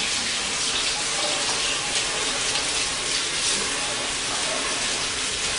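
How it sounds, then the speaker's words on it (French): Hot tap water runs steadily over a bunch of coriander as it is washed, giving a continuous, even hiss and splash with no pauses and no voices. "Moi, je lave la coriandre dans l'eau chaude"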